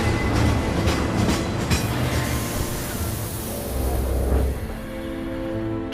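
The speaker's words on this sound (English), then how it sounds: "It starts with Cloud on a train." Train ride ambience from the video game Final Fantasy VII Remake: a steady rumbling carriage with rhythmic clickety-clack of wheels on rails, loud and continuous, with a hiss of air and a low mechanical drone throughout.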